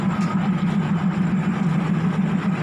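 A low, steady engine rumble drones on with a faint mechanical rattle as a Thai ordinary passenger train, No. 211, accelerates under load.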